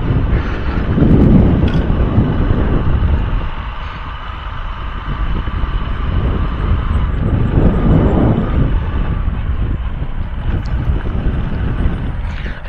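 Wind rushing steadily through a forest near a rubber plantation in the Kothayar area, a loud, broad roaring gust that eases briefly, then builds again and holds, with no voices heard.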